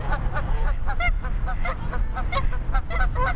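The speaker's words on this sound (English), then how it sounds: "The ducks and geese don't seem to mind." Geese and ducks in a park, a busy flock honking in quick irregular bursts over a constant low background rumble, close and fairly loud throughout.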